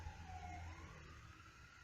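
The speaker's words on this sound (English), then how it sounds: "Sorry about the ambulance." An ambulance siren outside, a faint wailing tone that sweeps and fades over a low rumble of passing traffic, distant and brief.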